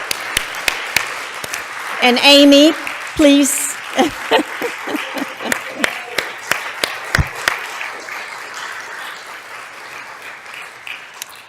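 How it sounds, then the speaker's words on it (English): An audience at the closing of an annual symposium breaks into applause, scattered claps gathering and then tapering off, while someone speaks briefly over the clapping. "so we can all give you a round of applause"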